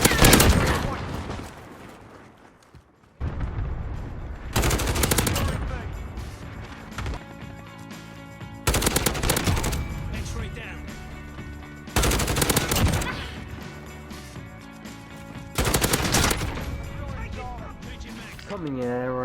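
A gun in a multiplayer shooter fires in several loud, sharp bursts spaced a few seconds apart, each followed by ringing decay and game sounds, with no talking.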